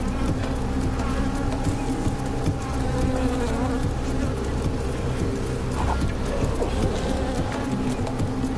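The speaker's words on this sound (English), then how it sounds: "Keep calm, bees." A dense, continuous buzzing of many bees fills the air, loud and close, droning on without pause.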